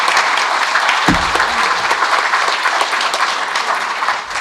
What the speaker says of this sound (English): let's give the panel a round of applause and thank them